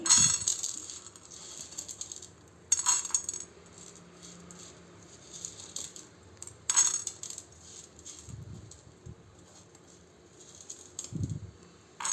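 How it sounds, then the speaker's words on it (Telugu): Urad dal poured into a pan for tondakaya chutney, a few separate bursts of dry lentils rattling and pattering against the metal, with quiet gaps between the pours. "ఇవి రోస్ట్ అయ్యాక మినప్పప్పు వేసుకుందాము"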